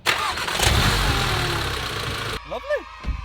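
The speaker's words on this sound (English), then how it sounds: "Hopefully the car starts perfectly with the new spark plugs, coil packs." A Volkswagen Scirocco, just fitted with new spark plugs and coil packs, cranks and fires up close by, running loudly for about two seconds before it cuts off. Brief talking follows.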